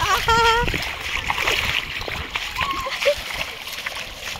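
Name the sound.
water splashing at a small waterfall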